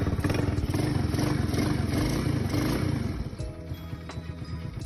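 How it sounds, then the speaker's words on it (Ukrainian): A nearby carbureted motorcycle engine revs hard after carburetor adjustment with a loud rasping roar, then drops back to a lumpy, pulsing idle. "прогазовуємо і дивимося на роботу двигуна"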